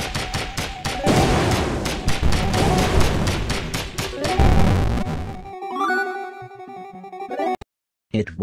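Rapid, dense bursts of gunfire sound from the video game Horace for several seconds, then give way to ringing electronic tones and a brief silence near the end.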